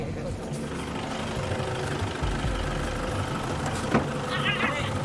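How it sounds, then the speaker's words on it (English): A tractor engine rumbles in the distance near a sand-mining site, a steady low drone that builds slightly as it approaches, with people talking over it. "Is this a tractor coming?"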